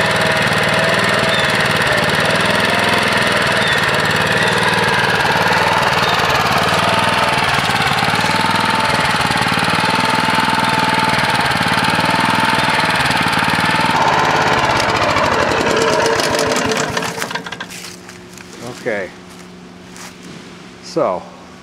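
A Honda HR214 lawn mower engine runs steadily and loudly, then is shut off around seventeen seconds, leaving a few faint clicks and knocks.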